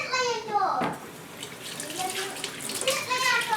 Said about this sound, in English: Let's wash my sink right after I wash something so that it does not collect grease.